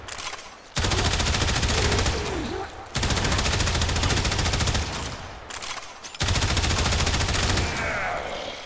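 Rattleguts auto rifle in Warframe fires at a Heavy Gunner, loud sustained rapid bursts with brief pauses between three long strings of automatic fire.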